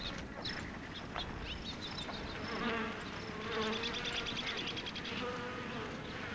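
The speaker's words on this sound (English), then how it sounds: "he showed them where honeybees had made a nest in the old stem" Honeybees at a nest inside an old dead cactus stem make a continuous, moderately close buzz with faint background sounds.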